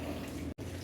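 Water drains from a Whirlpool Cabrio washing machine, a steady close rushing flow with a brief break near the end.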